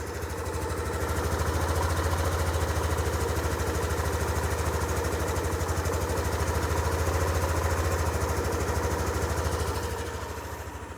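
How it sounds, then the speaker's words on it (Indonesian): A Yamaha Aerox 155 scooter idles close by with about 3000 km on Shell 10W40 oil, a steady even low putter that fades slightly at the end. "Jadi seperti ini suara mesinnya."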